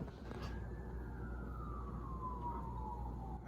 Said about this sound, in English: that's another police siren